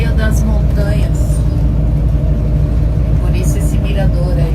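Cars passing a mountain roadside viewpoint at Piedra del Águila in Patagonia, a steady loud engine and road rumble with vehicles moving by, while people talk over it.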